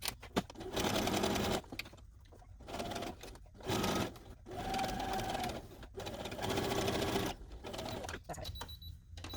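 A sewing machine stitches a Boo costume in several bursts of rapid clatter separated by short pauses, close and fairly loud.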